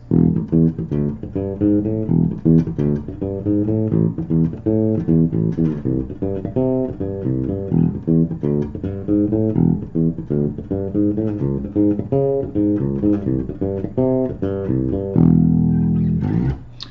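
Bass guitar playing the verse line of a song at full tempo, a steady run of busy, driving plucked notes carrying on alone for the whole stretch, with one longer held note near the end.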